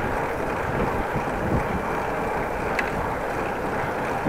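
Steady wind buffeting the microphone outdoors on a bike ride near Groningen, a continuous broadband rush with low gusty rumble, no talk, constant and fairly loud throughout.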